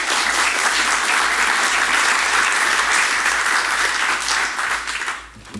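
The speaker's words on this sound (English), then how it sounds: "please give a warm applause to Rob Norris" A conference audience applauds speaker Rob Norris at a functional programming talk, a dense, even roar of clapping from many hands that holds steady for about five seconds before tapering off at the end.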